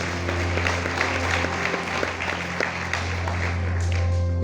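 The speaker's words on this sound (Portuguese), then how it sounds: "Dá mais um aplauso bem forte ao Senhor dos Senhores" A church congregation applauds steadily, a dense spread of clapping hands over a low hum in the hall, fairly quiet and continuous without voices standing out.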